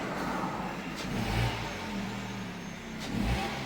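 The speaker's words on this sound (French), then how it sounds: "On va donner de l'accélération entre 2000 et 2500 tours pour chauffer le moteur." The engine of an Opel Zafira B 2013 is held at a steady rev of about 2000 to 2500 rpm to warm it up, a continuous droning hum with slight swells, close by and without speech.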